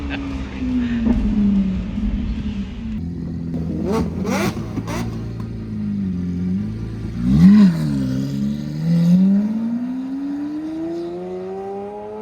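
A Lamborghini Aventador engine revs repeatedly, its pitch climbing and falling in loud surges, with excited voices of kids chattering and shouting over it.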